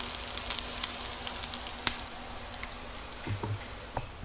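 Onion and garlic sautéing in a pan give a steady, moderate sizzle with scattered crackles and a few soft clinks near the end, with no voices.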